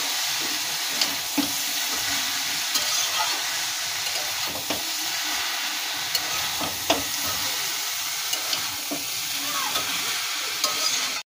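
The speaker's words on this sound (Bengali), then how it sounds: "এটা আমরা হালকা আঁচে আস্তে আস্তে কষাবো" Vegetable curry with coconut sautés slowly over low heat, giving a steady soft sizzle with occasional stirring clicks and scrapes from a utensil against the pan throughout.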